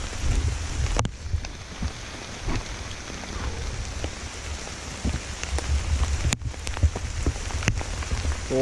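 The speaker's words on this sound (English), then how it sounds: "Still raining." Steady rain patters on surfaces nearby on a mountain trail in the Great Smoky Mountains, a continuous hiss with occasional louder drops and a few sharp knocks, no voices.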